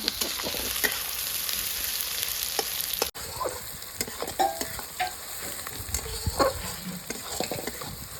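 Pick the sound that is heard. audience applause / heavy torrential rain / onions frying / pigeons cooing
onions frying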